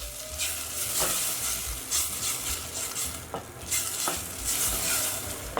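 Buffalo sauce with apple cider vinegar and Worcestershire gets stirred in a pan, with repeated spoon scrapes and taps over a soft, steady bubbling hiss.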